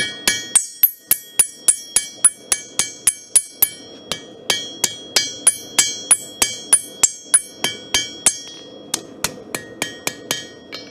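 A hammer pounds a hot steel chef knife blade on an anvil in a steady, rhythmic series of loud, ringing metallic strikes, with brief pauses between runs of blows.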